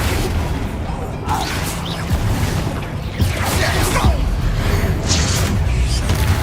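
Spells crash and whoosh in Hogwarts Legacy combat, with booming impacts and swishing blasts layered over a loud, dense game soundscape, ending with a few sharp hits.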